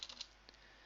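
A short run of quiet keystrokes on a computer keyboard while typing into an Excel chart, a few quick clicks close to the microphone.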